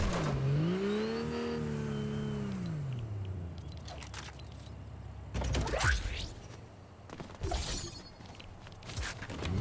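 A car in a video game drives and revs with a steady engine drone whose pitch rises and falls. Sharp crashes and impact bursts cut in midway and near the end.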